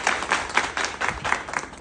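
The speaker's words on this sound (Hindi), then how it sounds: "जोरदार तालियां सर के लिए" An indoor audience claps in a short burst of about seven regular, fairly loud claps, with no other sounds.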